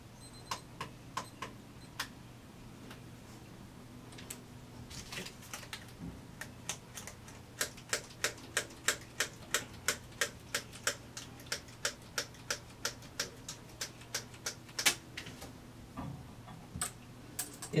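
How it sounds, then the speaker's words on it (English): A small timer ticks steadily through a TCA chemical peel, a quiet regular stream of sharp clicks over a low background hum. "I hope you can hear that timer going off"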